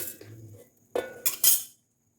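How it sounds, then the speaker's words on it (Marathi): Roasted ingredients tipped into a large mixer jar make three distinct clinking clatters of metal and hard bits after a quiet start, close and crisp, then silence. "बाकीचं साहित्य मी मिक्सर बाउलमध्ये टाकून घेत आहे"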